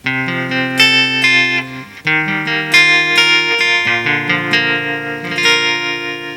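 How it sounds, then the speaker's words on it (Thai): An electric guitar played through a Cherub GB2i effects unit with tremolo added rings out in sustained, bright notes and chords, loud and close, with a processed, slightly wavering tone and no talking. "เคลองเพิ่มเทรมโลเหมือนกันนะครับ"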